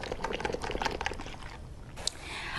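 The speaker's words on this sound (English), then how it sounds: "So I pre-soaked my clothes. I just have to put more laundry soap. And whoosh, whoosh, whoosh. Make more bubbles." Pre-soaked clothes being hand washed with laundry soap in a tub of water, sloshing and swishing in steady wet bursts close by, with a brief splash near the end.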